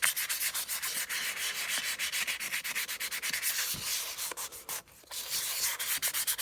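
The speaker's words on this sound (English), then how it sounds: "Now we can get back to sanding." Sandpaper is rubbed steadily back and forth over a Jason mask, making a close, continuous scratchy rasp in quick repeated strokes with one brief pause near the end.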